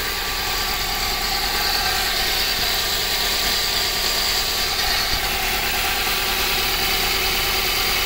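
A Ford Focus under repair for a misfire idles just after starting, giving a steady, continuous engine drone with no talk over it.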